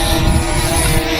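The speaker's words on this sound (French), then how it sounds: "Il y a du vent." Strong wind buffets a microphone outdoors in a field, a continuous low rumbling roar with no break and no voices.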